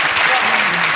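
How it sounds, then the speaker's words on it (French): Short burst of loud studio audience applause for Marc Messier on a television game show, dense clapping with a voice faintly underneath. "Et on applaudit Marc Messier"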